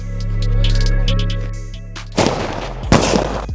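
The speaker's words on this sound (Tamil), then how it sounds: "இது வந்து நாலு 24 கேரட் கோல்டு லக்ஷ்மி வெடி" Lakshmi firecrackers at a Sivakasi jumbo-cracker display burst in two loud, sharp blasts one after another, following a steady tonal hum, with no talk.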